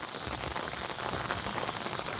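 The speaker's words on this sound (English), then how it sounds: "like today is raining, just walking in the rain" Rain falls steadily outdoors during a walk, making a soft, even patter and hiss on surfaces that continues without a break and with no voices.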